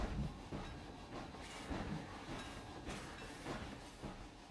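Slow steam train ride in the Planet Coaster game: a steady rumbling hiss runs throughout, with periodic soft clunks like rail joints and no voices.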